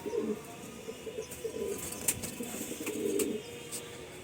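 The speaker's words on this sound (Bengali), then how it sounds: "নর পায়রা আছে, নর পায়রা। ছেড়ে দিচ্ছি বন্ধুরা" Pigeons coo in a home loft as a male pigeon is released, with soft repeated cooing phrases and a few sharp chirps and wing sounds, close and alone with no talking.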